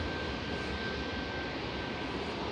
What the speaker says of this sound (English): Jet2's JZBP there, heading over to Malaga with flight 809.